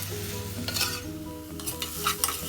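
Chopped onions and green chilies fry in a pan for a curry, a steady close sizzle broken by repeated scraping stirs of a spoon against the pan, with no talking.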